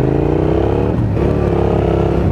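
A Suzuki SV650 V-twin motorcycle engine runs loud and close, its deep throbbing note rising and dipping briefly as it revs, with no talking.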